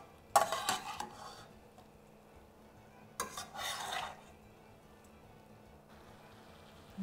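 Brussels sprouts tossed in garlic butter in a pan: two bursts of scraping, clattering stirring with a quiet gap between them and a faint sizzle underneath.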